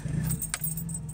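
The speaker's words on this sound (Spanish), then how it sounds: "si ustedes van a prender el carro, deben de ponerlo primero en neutro y ahí sí giran la llave." An ignition key jingles and turns in a manual car parked in neutral, with a brief metallic rattle of keys over a low, steady car hum, close and fairly quiet.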